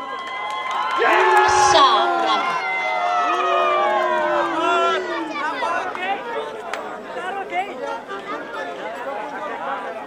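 An audience at a Roma Day celebration cheers and shouts for a band from Pașcani, a lively crowd roar with whoops and voices, and a person calls out over it near the start.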